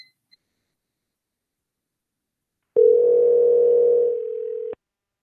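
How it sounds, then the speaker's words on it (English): A telephone call's ringing tone sounds as one steady electronic tone lasting about two seconds, loud and clear, after a few faint clicks in near silence. It drops slightly in level before cutting off. "Calling Ms. Stapleton now."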